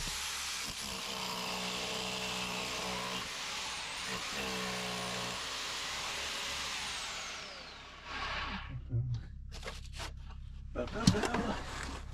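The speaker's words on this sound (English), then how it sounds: "See if we can knock this down with the jackhammer." A jackhammer hammers at rock fragments inside a tunnel under construction, a loud sustained rattling drone for about eight seconds before cutting off, followed by scattered knocks and shuffling.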